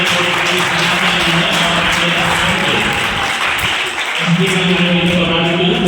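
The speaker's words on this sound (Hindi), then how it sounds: "एक बार जोरदार तालियों से स्वागत करिए।" An audience at a community program honouring service to the elderly breaks into sustained, loud applause, a steady wash of clapping that holds throughout with a brief dip near the end.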